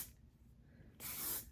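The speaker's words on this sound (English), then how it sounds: "I like to apply some hairspray to the top so that my flyaways aren't like crazy" Sebastian hair shaper hairspray sprays onto hair in one close, steady hiss lasting about half a second, following a quiet stretch.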